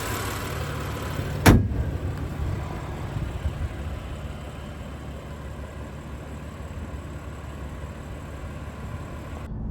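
A 2016 BMW M4 idles steadily at a low, fairly quiet level after a sharp thump like a car door shutting near the start.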